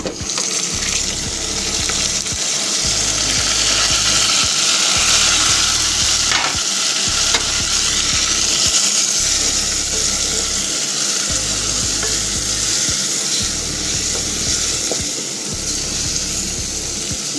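Tomatoes sizzle in a hot pan while being stirred for a spaghetti dish, a continuous frying hiss with repeated scraping strokes of the spoon at a steady rhythm.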